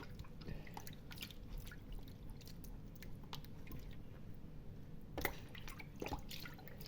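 Water drips and trickles close by in a wash basin as the bath is changed. Small splashes and drops sound irregularly over a low background, with a louder splash near the end.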